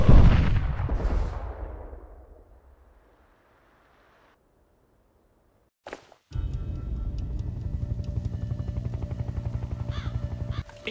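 Sniper Ghost Warrior 2 gameplay: sharp sniper rifle shots aimed at a helicopter canopy, a loud blast that decays into near silence, then a sudden crack followed by a steady pulsing helicopter rotor drone.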